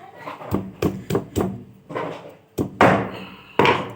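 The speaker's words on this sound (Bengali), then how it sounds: "এবার শিল দিয়ে একটু মিহি করে বেটে নেব" Spices are ground on a stone grinding slab: a series of sharp knocks and scraping strokes, close and fairly loud, in uneven bursts with short pauses between.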